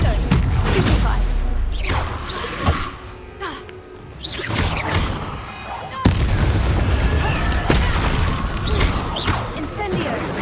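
Combat spell casts such as Incendio and Stupefy in Hogwarts Legacy burst out as loud, repeated impacts and crackling blasts, dense and close, mixed with clashing noise throughout.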